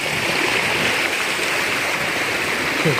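Floodwater rushes loudly and continuously during heavy rain in Junagadh, a steady close roar with no breaks.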